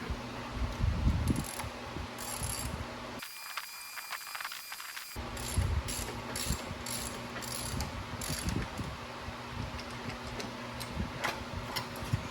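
A ratchet wrench works on the harmonic balancer of a Ford 4.9L inline six, giving quiet repeated clicking and mechanical ticking with a brief pause partway through.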